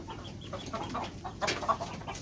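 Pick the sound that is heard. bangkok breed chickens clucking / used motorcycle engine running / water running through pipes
bangkok breed chickens clucking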